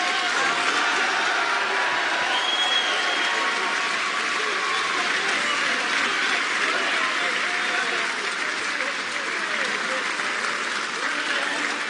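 A snooker crowd applauds Ronnie O'Sullivan's 1000th century break, with loud, sustained clapping that fills the whole stretch without a break as a commentator speaks over it.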